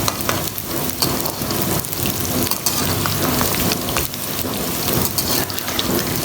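Bhindi frying in oil until crisp crackles in a thick, rain-like sizzle with scattered sharper pops, heard close and without any talking.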